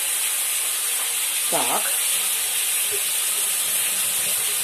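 Constant loud hiss and sizzle of food frying in a pan, steady throughout, with a brief spoken word partway through.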